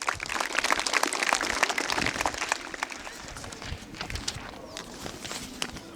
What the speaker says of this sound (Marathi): जोरदार टाळ्या याच्यासाठी एकदा.